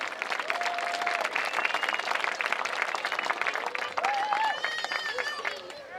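A crowd at a high school homecoming football game applauds the homecoming court, steady clapping mixed with cheering and whistles, with a voice heard over it toward the end.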